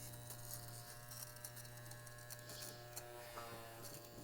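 A small electric motor in an Aquapur lint remover whirs steadily with a low buzzing hum and faint ticking scratches, quiet and close, continuing without pause.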